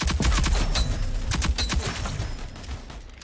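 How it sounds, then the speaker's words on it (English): A cluster grenade launcher in the Rogue Company shooter fires at a wall, giving a rapid clatter of sharp pops and small bursts for about three seconds, fairly loud and close, with no speech. "my special is a grenade launcher that clusters, so when I shoot the wall"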